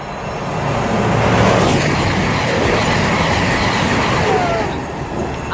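A Meridian passenger train runs through Bedford station on the Midland Main Line, a loud, sustained roar of wheels and engine that swells quickly, holds steady, then eases off as the train clears the platform.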